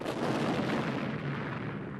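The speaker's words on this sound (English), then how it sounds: "the Mexican army used the cannon. It exploded." A cannon blast rolls out as a broad, noisy boom that decays slowly into a sustained rumble, dense and loud, with no voices over it.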